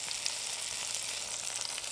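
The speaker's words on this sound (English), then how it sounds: "I might just get the mushrooms in that oil on that side." Mushrooms sizzle in oil in a small Trangia Mini camping pan on a burner, giving a steady, close crackling hiss with no talk.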